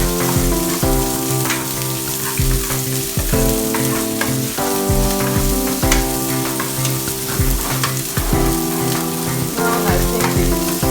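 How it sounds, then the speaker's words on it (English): Onions frying in groundnut oil in a pan give a steady close sizzle with occasional stirring scrapes, the crackle holding at an even level throughout with no talking. "add in your onion and your groundnut oil, and fry the onions till it becomes tender"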